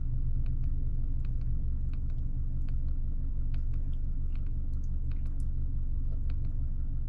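A 2023 Subaru Legacy Sport Turbo idles steadily after start-up, a low, even engine rumble heard close and alone with faint clicks above it.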